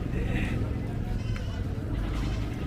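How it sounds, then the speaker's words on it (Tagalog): A goat bleats while being led home on a rope after purchase, its cries rising over a steady hum of outdoor background noise. "nabili natin kambing at hila-hila na lang Kuya Ken"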